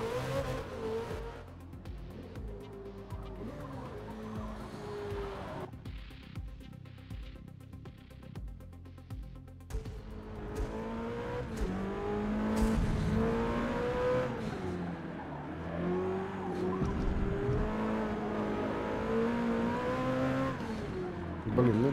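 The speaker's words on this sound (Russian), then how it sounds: "Встаешь на газ, прям чувствуешь, что машинка-то мощная, заряженная." A BMW M5 super sedan in the racing game Forza Motorsport revs and accelerates in rising, falling engine sweeps, with gear changes, tire squeal and someone talking over the engine noise.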